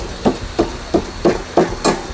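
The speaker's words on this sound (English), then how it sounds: "hammer it down and lay it to one side." A hammer strikes six times at a steady, even rhythm, loud and close, tapping down a wood stove gasket installed without glue.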